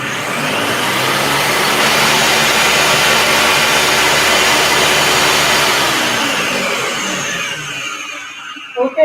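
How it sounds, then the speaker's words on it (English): A Ninja blender whirs loudly and steadily while blending coconut, holding one dense tone for several seconds before winding down and stopping near the end. "as you can see here, I was blending that in the Ninja"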